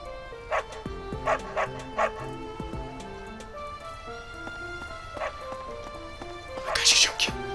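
Dog barks ring out several times in short bursts from the Fire Emblem Three Houses video game, mixed with game music and clip-clop hoof sounds, and a voice talks over them.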